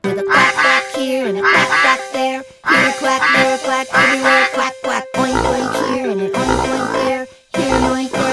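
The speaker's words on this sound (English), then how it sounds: "Well, there is a duck" Cartoon duck quacks in a children's farm song, repeated bursts of bright nasal quacking over music, loud and close.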